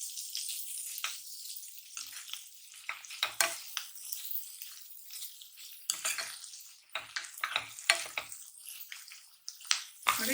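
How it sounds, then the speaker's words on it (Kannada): Chopped ginger and garlic frying in a pan, a light crackling sizzle broken up by repeated scraping and clinking as the spatula stirs, rising and falling in irregular bursts. "1 ಇಂಚು ಶುಂಠಿ, ಒಂದು 25 ಎಸ್ಲು ಬೆಳ್ಳುಳ್ಳಿ, ಇಷ್ಟನ್ನು ಚೆನ್ನಾಗಿ ಫ್ರೈ ಮಾಡ್ಕೊಬೇಕು"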